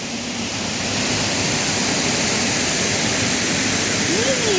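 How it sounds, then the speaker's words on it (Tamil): Water rushing at the Kudaganar river waterfall, flowing with heavy force: a steady, loud broadband roar that fills the whole stretch without a break, close by and unaccompanied by talk. "தண்ணி எவ்வளோ தண்ணி போகுது பார்த்தியா."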